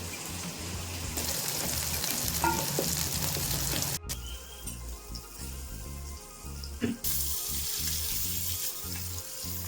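Fresh fish fries in a pan with a loud, continuous close sizzle. Louder and quieter stretches alternate, broken by a brief dropout and occasional clinks, and water-like hiss runs underneath.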